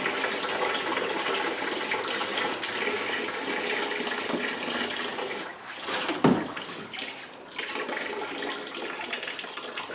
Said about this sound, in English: Let me dump the rest of this in the pan.